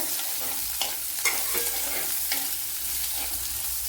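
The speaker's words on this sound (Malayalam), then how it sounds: "ഈ സവാള നല്ലപോലെ ഒന്ന് വയണ്ട് വരണം" Chopped onion sautéing in a hot pan for a colocasia curry, a steady soft sizzle with a few scraping stirs of a spoon, close by and with no talk.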